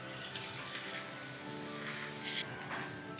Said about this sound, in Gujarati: કાંદા અને આ બધું શેકીએ છીએ અને પછી ટોમેટો એડ કરીને ટોમેટોને પણ થોડી વાર શેકીશું